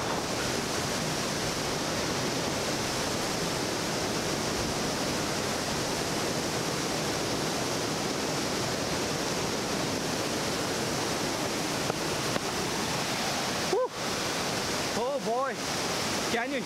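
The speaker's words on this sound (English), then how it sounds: "Can you hear the gushing of the waterfall?" Mallalli Falls in Madikeri gushes in a loud, steady, close roar of falling water that fills the whole stretch, with a brief voice breaking through near the end.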